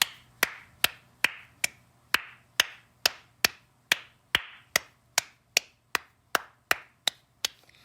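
Hands clap steadily, about nineteen sharp, evenly spaced claps roughly every 0.4 seconds, close and crisp with no talking.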